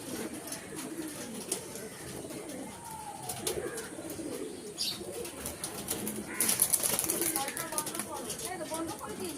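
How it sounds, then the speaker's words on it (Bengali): Pigeons coo in low, throaty rolls with occasional bursts of wing flapping, while people talk nearby. "প্রচণ্ড ছটপটে পায়রা, দেখতেই পাচ্ছ"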